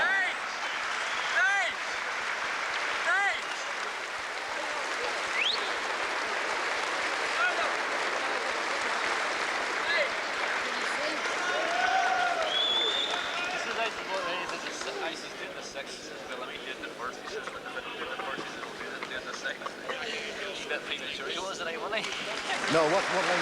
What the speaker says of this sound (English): Let's hear applause for Luis Mendieta.